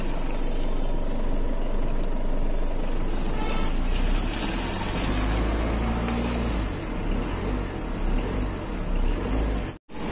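A Tata Indigo car engine runs steadily at idle, a loud, even low rumble lasting throughout, with a brief cut near the end.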